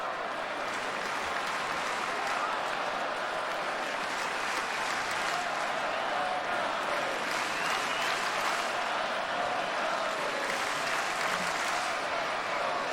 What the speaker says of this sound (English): Big crowd, everybody on their feet.